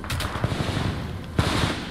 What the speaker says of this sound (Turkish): Lan kim sıkıyor lan?